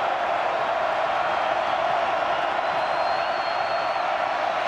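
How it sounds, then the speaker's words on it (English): A football stadium crowd roars steadily from the end zone at a college game between Virginia and NC State, a dense, continuous wall of noise with no breaks. "Crowd making some noise down in that end zone."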